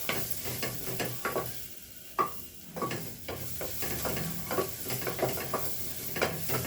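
Cabbage and moong dal fry in a pan with a steady sizzle, broken by repeated spatula scrapes and stirring knocks at an uneven pace, close and moderately loud.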